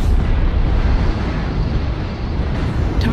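A destroyed target erupts in a video game battle with a loud, continuous, rumbling blast that roars steadily for a few seconds without any talk.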